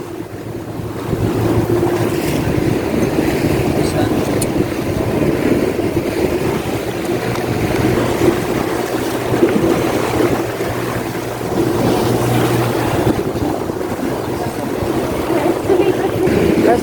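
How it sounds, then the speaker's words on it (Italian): Choppy sea on a submarine boat tour off Cagliari, Sardinia: continuous rushing waves and water sloshing against the hull under heavy wind buffeting on the microphone, loud and close throughout. "Le onde sono altine, eh."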